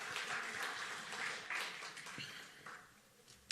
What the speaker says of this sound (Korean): 박수로 한번 좀 환영하며 그랬으면 좋겠습니다